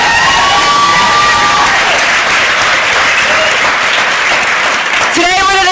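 Loud, sustained audience applause fills a large event hall, steady clapping with scattered cheers and whistles throughout, ending with a rising whoop over the crowd.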